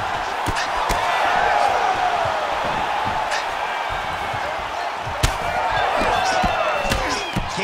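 Arena crowd in the UFC 5 fighting video game, a steady roar of spectators swelling and reacting with cheers as the fighters exchange heavy blows, with a commentator talking over it.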